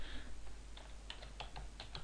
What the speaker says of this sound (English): I'm going to just type into this area. I'm going to type in